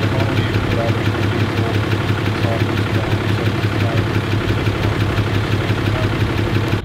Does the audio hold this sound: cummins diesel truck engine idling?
yes